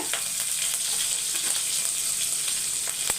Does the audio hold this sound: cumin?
yes